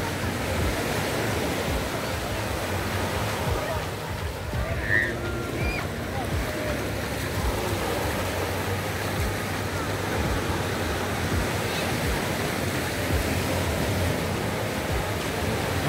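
Surf at Prainha beach in Arraial do Cabo, Rio de Janeiro, rolls in as a steady, loud wash of breaking waves and hiss, constant throughout with no clear talk.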